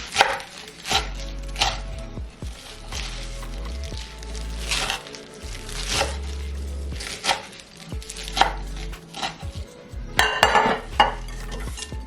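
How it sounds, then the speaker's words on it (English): Salad chopped with a knife on a board, heard as rapid, rhythmic close-up chopping in bursts with brief pauses and some light utensil clatter, and no one speaking. "I'm gonna chop up some of the salad"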